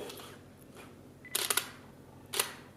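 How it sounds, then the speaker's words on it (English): A Nikon D800 DSLR fires its shutter in quiet surroundings, a quick cluster of soft, damp-sounding clicks followed by one more isolated release about a second later. "that horrible sound of the wet fart shutter."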